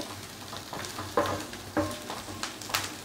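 Chopped garlic, curry leaves and coriander fry in hot oil for Hyderabad-style chicken 65. A close, steady sizzle is broken by repeated spatula scrapes and knocks as the pan is stirred.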